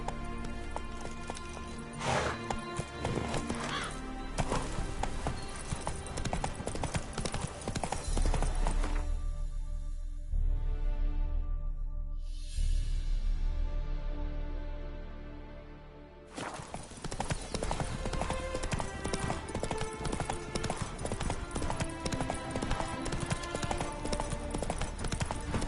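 A horse galloping in The Witcher 3, loud rapid hoofbeats pounding under dense game music and ambience, with a brief quieter whooshing lull midway before the galloping rhythm resumes.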